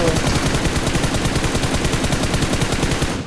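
Automatic gunshots in the video game PUBG Mobile, a fast, evenly spaced string of loud close shots hammering continuously for about three seconds before tapering off at the very end.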